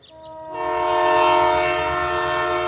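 A sleeper-class express train sounds a loud, sustained tonal horn close by as it departs, the chord swelling in and holding over low rumbling rail noise.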